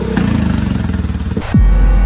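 A Peugeot XP400 motorcycle engine runs loud and close with a pulsing, throbbing rev, then cuts to a sharp drop and a heavy low rumble near the end.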